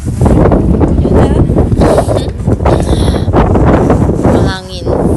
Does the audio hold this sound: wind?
yes